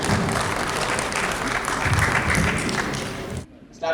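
An audience at a Habib Jalib memorial event bursts into sustained, dense applause as a guest walks onto the stage, loud and steady before it tapers off, with a voice briefly heard at the end.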